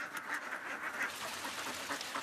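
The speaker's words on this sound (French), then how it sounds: "L'éleveur arrive avec ses canards dans les rizières, une fois la récolte terminée." Ducks quack in a rice paddy after the harvest, a quiet, uneven chorus of short nasal calls heard from some distance with no talking.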